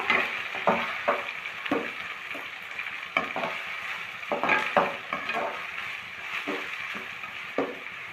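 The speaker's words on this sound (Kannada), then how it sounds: "ಎಣ್ಣೆಯಲ್ಲಿ ಚೆನ್ನಾಗಿ ಈರುಳ್ಳಿನ ಸಹ ಚೆನ್ನಾಗಿ ಫ್ರೈ ಮಾಡ್ಕೊಳ್ಳೋಣ ಸ್ವಲ್ಪ" Onions frying in hot oil in a pan for vegetable fried rice, a steady sizzle with repeated scraping stirs at irregular intervals, close and moderately loud with no talking.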